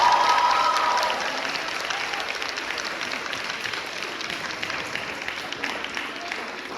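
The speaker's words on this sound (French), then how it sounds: "un maximum d'applaudissements, de bruit pour nos super boulaliens" Loud crowd applause with cheering fills a room at a French back-to-school evening party. It starts strong with a brief shout or whistle, then settles into steady clapping and crowd noise that slowly eases off.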